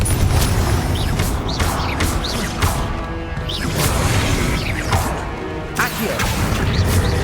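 Confringo fire spell blasts in Hogwarts Legacy come as a series of loud, crashing explosive bursts spaced a second or so apart over a constant rumbling combat din, close and heavy.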